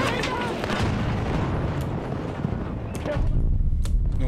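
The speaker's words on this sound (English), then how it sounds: "Grenade!" Grenade blast and sustained battle noise in the Battlefield video game, a loud dense roar of explosions and gunfire filling the whole stretch, with a couple of sharper bangs near the end.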